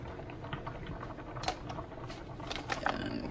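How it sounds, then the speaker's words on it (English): Meatballs dropped one by one into bubbling spaghetti sauce on the stove, giving a steady soft simmer with a few brief wet plops and splashes close by. "I'm gonna go ahead and add the meatballs in."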